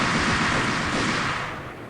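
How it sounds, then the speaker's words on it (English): An explosion in the video game Max Payne gives a loud, broadband roaring blast that gradually fades away, with no voices over it. "Michael Bay explosions everywhere."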